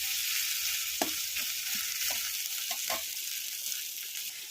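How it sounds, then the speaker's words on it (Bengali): Chopped tomato and capsicum frying in a pan, a steady close sizzling hiss with occasional soft stirring knocks and scrapes. "আমি টমেটো ক্যাপসিকামটা তুলে দিয়েছি, দিয়ে আমি এটাকে একটু ভেজে নেব"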